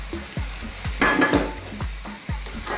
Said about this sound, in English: Let's give this a mix around.